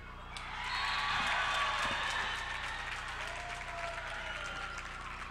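Applause and cheering from a volleyball crowd at a senior night match, a dense, steady wash of clapping that swells in and holds, heard from within the gym with a faint voice underneath.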